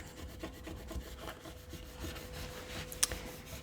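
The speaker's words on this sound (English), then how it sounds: "So we'll burnish this down." A steady scraping rub comes from burnishing Cricut vinyl down onto a gift blank, quiet strokes close by with one small tap near the end and no speech.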